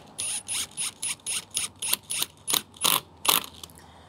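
A screw is driven through a TimberTech composite deck rail picket, a quick series of about a dozen short, clicking driver bursts, evenly paced and growing slightly louder and longer toward the end.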